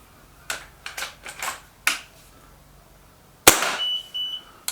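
A Beeman 1357 air pistol fired over a chronograph: one sharp, loud, close crack stands alone after a few light mechanical clicks and taps of handling, then a brief ringing tail.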